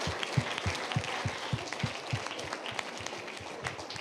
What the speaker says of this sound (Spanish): Les iba a pedir un aplauso al maestro